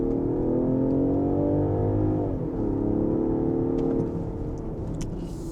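In sport mode with dynamic setting, a car with a ZF gearbox and six-cylinder Ingenium engine accelerates hard through a sharp curve, its engine note loud and close, rising, dipping briefly, then climbing again.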